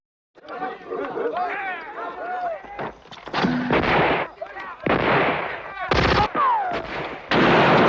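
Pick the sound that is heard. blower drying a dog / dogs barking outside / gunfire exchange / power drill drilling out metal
gunfire exchange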